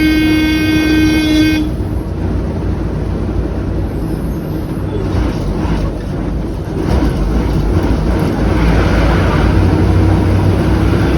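A KSRTC bus horn sounds in a sustained blast near the start, over the steady roar of road noise and wind rushing past on a highway ride from Calicut toward Hampi.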